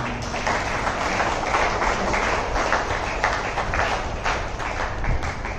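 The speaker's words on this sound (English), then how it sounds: "A big round of applause for all of them." Steady, dense applause from an audience at a feast-day Mass celebration, a continuous wash of many hands clapping at even loudness throughout.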